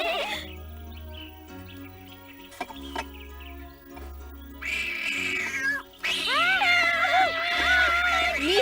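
A cat meows several times over steady background music, the cries growing louder and more drawn-out toward the end.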